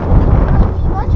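Strong wind buffets the microphone outdoors during a camping gear setup, a continuous loud low rumble that gusts steadily through the whole moment.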